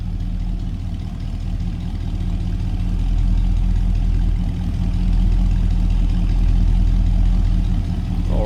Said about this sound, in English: Nice deep throaty exhaust note.